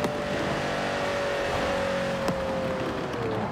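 Mercedes SL65 AMG engine in Forza Horizon 4 accelerating hard, a loud steady roar with a rising whine held across the whole stretch, up close and with no talk over it.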